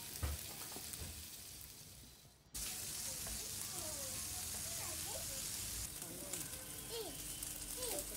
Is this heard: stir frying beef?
yes